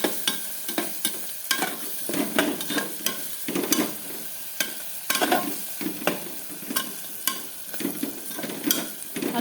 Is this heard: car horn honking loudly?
no